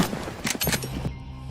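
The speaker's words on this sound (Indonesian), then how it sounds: "Suara tembakan langsung membuat seluruh perkemahan kacau." Gunfire erupts in a film scene at a camp, a burst of loud overlapping shots in the first second, then a sustained low rumble as the shooting stops.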